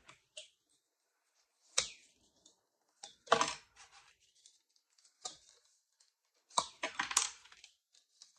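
A bone folder or tool is rubbed over a paper score line to crease a card flap, giving several short, close scraping and swishing strokes separated by silent pauses.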